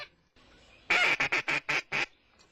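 A rapid series of six loud, honking quacks from a duck call at dawn, each sharp and close, with a brief faint call just before the burst and quiet afterward.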